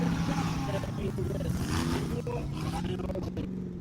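Race car approaching on the Attica dirt track at the Badlands Brawl, a distant engine roar building under an announcer talking over it.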